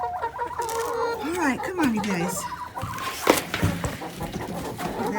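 Backyard hens cluck and squawk in a coop on a snowy day, a busy scatter of nearby fowl calls, while someone talks over them.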